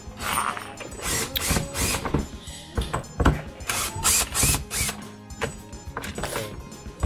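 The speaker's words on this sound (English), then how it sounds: "Got the power screwdriver right there." A power screwdriver whirs in repeated short bursts, backing screws out of the motor on a Tesla Model S-style Radio Flyer kids' ride-on car with a bad motor, close and fairly loud with ratcheting mechanical clicks between runs.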